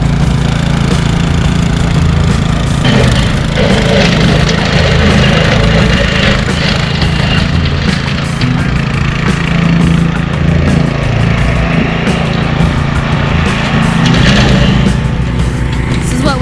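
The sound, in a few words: brush mower cutting brush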